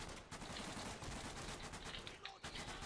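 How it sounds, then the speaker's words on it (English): Rapid rifle and machine-gun fire from a teammate in the World War II shooter Day of Infamy, dense continuous bursts with crackling reports, loud and close, filling the whole stretch. "from my teammate trying to shoot me in the back"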